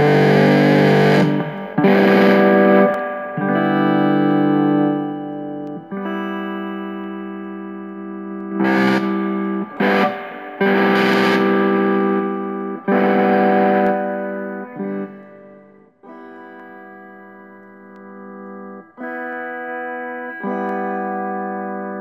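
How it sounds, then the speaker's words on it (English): A distortion audio plugin processes a sustained tone into a gritty, heavily clipped, buzzing sound with rich harmonics, loud and in close focus, played as held notes separated by short breaks and pitch changes, with no voice. "And this is distortion plugin"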